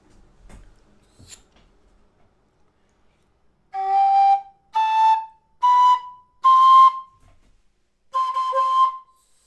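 A low or high D tin whistle plays a slow rising run of five separate held notes from G, each a little higher, then a short pause before one final C natural, clear and close.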